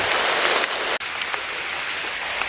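Steady rain falls in a forest, a dense close hiss of drops striking leaves and a surface, briefly cut by a short gap before continuing evenly.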